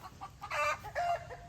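Several chickens cluck loudly and excitedly in a backyard flock while a hen lays an egg, giving close, rapid, rising squawks in two bursts over a faint background.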